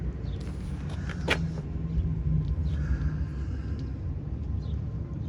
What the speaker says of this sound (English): I like the sound of the dual exhaust.